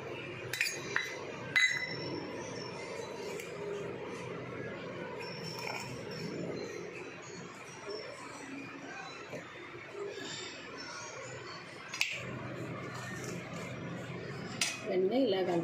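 Ground spices are mixed into fish in a dish for a fish fry, with scattered clinks of utensils against the dish over a soft background murmur.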